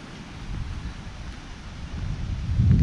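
A river runs unseen behind trees at a campsite in the Lake District, a steady low rushing wash that swells louder toward the end, with no voices.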